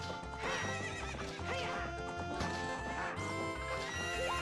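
A horse gallops during the Zelda: Ocarina of Time horse race, its rhythmic hoofbeats thudding steadily beneath a bright, busy game music track, with a whinny standing out among the layered sound.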